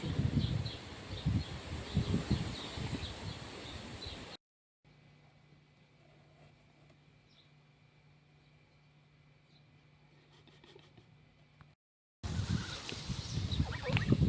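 Geese honk and gabble close by in bursts at the start and end, with a long stretch of near silence between.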